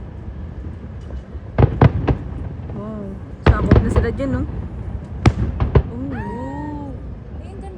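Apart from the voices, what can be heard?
fireworks exploding at a pyromusical competition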